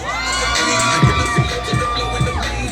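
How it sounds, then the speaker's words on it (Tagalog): A crowd cheers and shouts at the opening of a phone maker's experience store in a Manila shopping mall, with loud continuous whooping and screaming plus a few rhythmic thumps underneath. "Pwede ko bang marinig ang ngayong niyawan at sigawan?"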